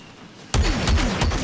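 Rapid blaster gunfire from the video game Star Wars Battlefront II erupts suddenly as a loud close burst of several repeated shots with descending whines, after a quiet ambient start.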